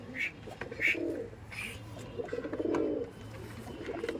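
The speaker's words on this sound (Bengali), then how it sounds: "পায়রা দেখুন" Madras pigeons at a breeder's home cooing in soft, low, rounded bursts, several calls spaced across a few seconds, close by over faint background chatter and light ambient noise.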